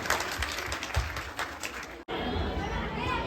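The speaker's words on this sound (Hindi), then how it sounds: "सो प्लीज उनका जोरदार ताली के साथ स्वागत करेंगे।" A school audience claps to welcome a student poetry performer at an Independence Day event, a loose, lively patter mixed with crowd chatter. A brief dropout is followed by fuller, steady applause.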